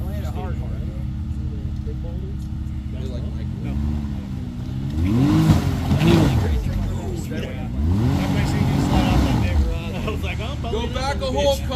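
A 4x4's engine revs up and strains as it crawls over rocks on an off-road trail, rising in two strong surges over a steady idle, with people talking nearby.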